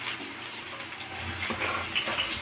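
Chopped onions and green chillies fry in hot oil for gobi manchurian, making a steady, close sizzle and crackle with no talking.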